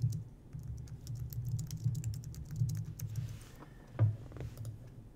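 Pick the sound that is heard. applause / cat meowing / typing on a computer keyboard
typing on a computer keyboard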